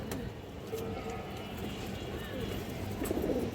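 Fancy domestic pigeons coo in a loft with low, throaty, repeated murmurs that run steadily close by, with a few sharp clicks and ticks in the background.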